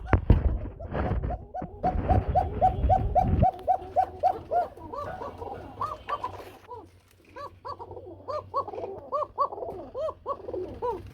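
Pigeons coo in repeated soft, rounded calls from several birds in a loft of Lahori and fantail pigeons kept for sale. A burst of rustling and clattering opens the sequence, and the cooing continues in overlapping phrases.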